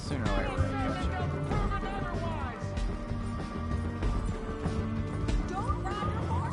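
A horse gallops fast in a Red Dead Redemption 2 chase, its hooves drumming steadily under loud game music and effects, with a voice talking over it.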